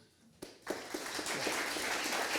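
Applause breaks out in a lecture hall at the Institut Henri Poincaré, starting faint and scattered before swelling abruptly into steady, dense clapping from the audience welcoming the physics speaker.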